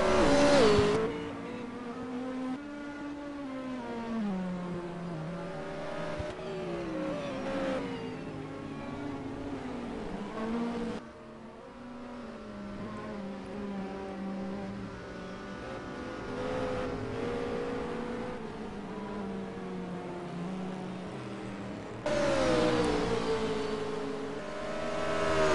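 Race cars, a Jaguar against a BMW, roar in a sim racing game at Zandvoort, with engines revving up and down through gear changes, sustained and fairly loud, without talk.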